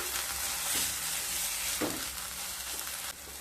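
Moringa leaf paste fries and sizzles with onions in a pan over medium heat, a constant soft hiss broken by a few scraping stirs, close and quiet with no voices.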